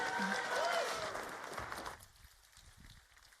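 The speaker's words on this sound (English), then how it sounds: "please give them a round hand of applause" Applause from an audience at a university startup night, greeting a pitching startup team; dense clapping fills the first two seconds and then thins and fades toward the end.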